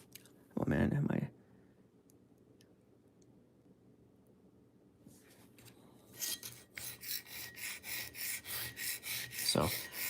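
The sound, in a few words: knife being sharpened on a diamond stone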